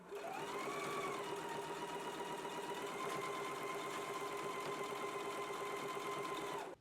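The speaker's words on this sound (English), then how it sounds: "Let's go ahead and do the basting stitch now" Sewing machine running a steady, continuous basting stitch along a skirt seam, its motor whirring at an even pitch close by for several seconds with no pauses and no talking.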